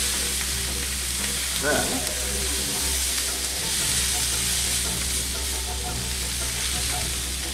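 Kielbasa, peppers and onion sizzle steadily in a hot pan while being stirred, with a soft scraping stir near the start and a voice speaking briefly over the frying.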